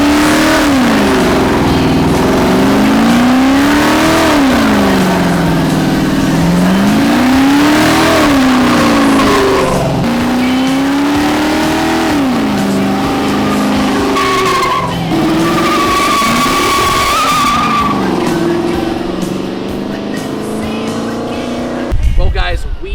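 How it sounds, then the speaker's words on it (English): Chevrolet Camaro V8 from a budget build doing a burnout, engine revving loudly in repeated rising and falling surges with tire squeal and skidding, close and continuous, with people talking over it. "Time to see if this thing can do a burnout."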